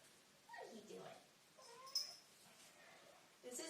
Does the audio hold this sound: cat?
yes